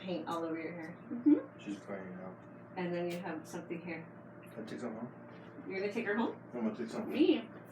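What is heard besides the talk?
No everyday noises stand out.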